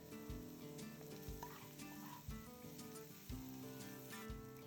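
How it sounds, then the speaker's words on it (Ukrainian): Onion and bacon frying in oil, a continuous crackling sizzle with faint stirring, steady and close, with no voices. "обсмажте цибулю, потім сало"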